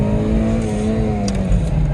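A rally car engine holds loud, steady throttle from inside the cabin, a dense, rough drone with a faintly rising pitch and no break over two seconds.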